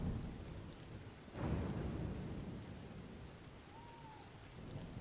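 Steady rain pours down in the video game Tears of the Kingdom, and a low rumble of thunder swells up partway through and slowly fades beneath the continuous downpour.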